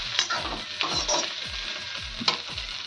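Okra fries in tempering oil with a continuous bright sizzle and spatter, punctuated by repeated soft stirring thumps at a regular pace.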